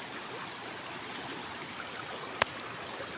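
Floodwater from a big flood rushes in a steady, broadband roar that holds close and constant throughout, with one brief sharp click partway through and no voices.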